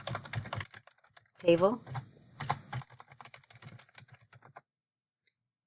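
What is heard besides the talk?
typing on computer keyboard in spreadsheet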